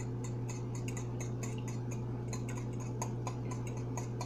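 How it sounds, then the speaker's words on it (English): Eggs being stirred in a bowl for French toast, a fast steady ticking of a utensil against the bowl over a constant low hum, close and without talk. "You're gonna need to stir them up real good."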